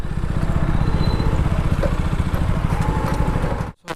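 A steady motorcycle engine rumble from a group of four bikes riding on a rainy road near Nongstoin, Meghalaya, runs throughout, fairly close, ending with a brief drop to near silence.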